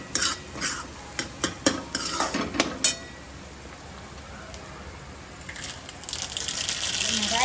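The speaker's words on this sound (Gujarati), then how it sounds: "આપણે કાંદા ને ચડવા મૂકી દીધું છે," Onions cook in a pan for a Jini roll dosa filling: a few sharp utensil clinks and stirring knocks come first, then a soft sizzle that swells louder toward the end, with some talk in the background.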